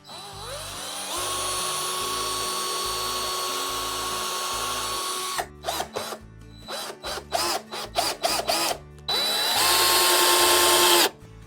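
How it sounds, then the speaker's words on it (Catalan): Power drill with a very fine bit boring a small pilot hole in wood for a screw, a long steady whine followed by a run of short stop-start bursts and then one more sustained run, close and loud. "Agafarem una broca molt fineta, que és una mica un truc de fuster això, i farem el foradet abans de posar-hi el cargol."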